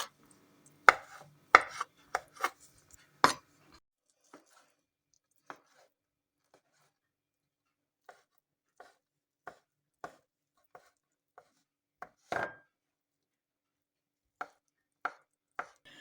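Cooked chicken meat is chopped with a knife for a pomegranate salad: quick clustered knife strikes on a board at first, then sparse, isolated chops separated by quiet pauses.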